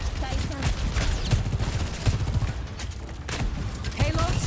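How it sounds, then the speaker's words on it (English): Railgun fire in Overwatch on the Blizzard World map, rapid bursts of shots and booming impacts under busy game noise and a speaking voice. "Railgun powered and ready to fire"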